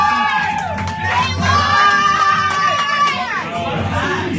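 A roast battle audience screams and cheers loudly in a sustained burst with whoops layered over it, then fades slightly at the end.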